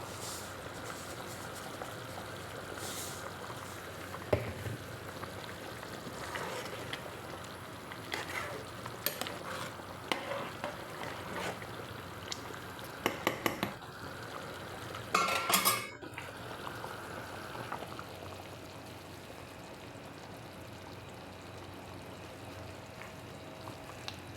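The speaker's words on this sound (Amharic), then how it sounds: "ሶሳችን ብክ ብክ እያለ ነው።" Tomato sauce for koshari bubbling and sizzling steadily as it simmers in a pot on the stove, a close, continuous wet crackle with occasional clinks of a spoon or utensil against the pot.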